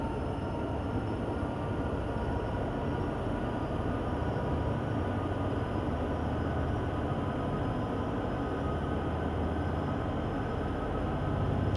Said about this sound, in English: See, that engine audio does sound nice.